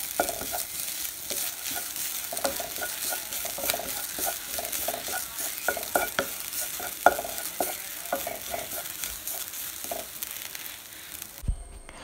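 Desiccated coconut being dry-roasted in a pan on medium flame. A spoon scrapes and stirs in steady, irregular strokes with light crackling, quiet and close, until a sharp knock near the end.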